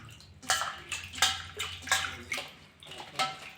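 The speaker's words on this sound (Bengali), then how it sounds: "বাঁধাকপিটা সব কেটে নিয়েছি, আমি এরকম গোটা গোটা আস্তে আস্তে ধুয়ে নেব" Cut cabbage pieces being rinsed by hand in a pot of water in a kitchen, making a steady run of about six soft splashes and sloshes, close by and with no talking.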